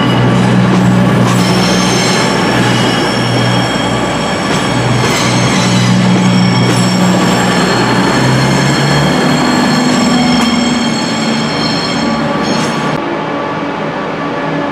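A passenger train bound for Edinburgh rolls loudly and close through a Birmingham station, with steady rumbling, clicking wheels and brief metallic squeals, ending with a drop in high-frequency noise.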